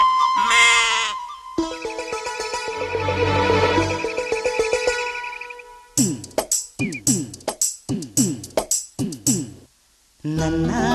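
Lambs bleating within a sung folk-style song, with melodic singing and music at first, then a rapid series of short, close bleat-like calls in a quick rhythm.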